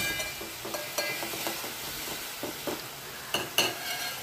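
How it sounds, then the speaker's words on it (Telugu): Ground onion paste and slit green chilies fry in hot peanut oil, giving a steady close sizzle broken by repeated scraping stirs and a few sharper clinks of the spoon against the pan. "గ్రైండ్ చేసి పెట్టుకున్న ఉల్లిపాయని వేసుకున్నానండి. అదేవిధంగా పచ్చిమిర్చి చీలికల్ని కూడా వేసుకున్నాను. కొంచెం బాగా వేయించుకుందామండి."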